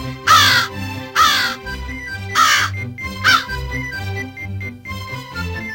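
A crow in an animated Panchatantra story caws four times, loud and harsh, over a steady musical background.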